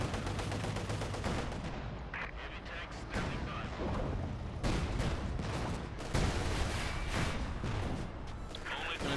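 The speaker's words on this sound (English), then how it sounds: "45mm gun and traction machine gun joining in." In a Company of Heroes 2 battle, a 45mm anti-tank gun and machine gun fire amid dense, continuous combat: rattling bursts and sharp booms over constant battle noise, with a commentator talking throughout.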